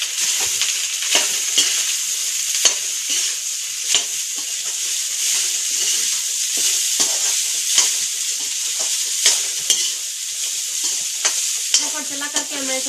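Rice frying in a pan with roasted chilies on a gas stove, a continuous bright sizzle broken by repeated scraping and clinking stirs of a spoon against the pan, close and steady.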